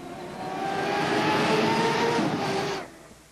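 A loud, sustained roar of Indy race car engines with a steady whine during 1991 Vancouver Indy qualifying, building quickly and then cutting off near the end.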